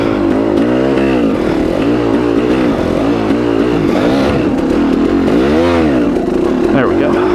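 A motorcycle engine revs hard and steadily as the rear wheel spins and digs into sand, a loud, close, continuous wavering drone with a fluctuating pitch, and no one speaking over it.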